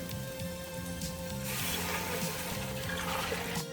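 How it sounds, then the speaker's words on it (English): Vegetable stock pours into a soup pot for wedding soup, a steady, fairly loud liquid splash and gurgle that continues for several seconds, with a faint repeating low tone in the background. "Now I'm going to add 5 cups of vegetable stock"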